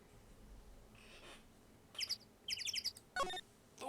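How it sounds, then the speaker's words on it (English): Birds chirp in the video game Turnabout Samurai, with short bright twittering bursts arriving in quick clusters over a faint ambient background, no voices. "Those birds, oh my gosh."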